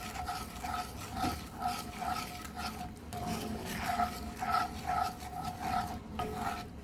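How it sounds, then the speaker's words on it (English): A spoon scraping and swirling sugar sauce around a pan on medium-low heat, soft rhythmic rasping strokes repeating steadily and fairly quietly with no talking. "So just stir it around because you definitely want that sugar to dissolve."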